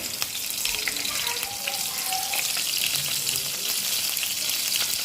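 Mustard seeds, green chillies and curry leaves sizzle and crackle in hot oil as the tempering for a Maharashtrian brinjal bharit. The hiss is dense, continuous and close, with scattered pops and no talking.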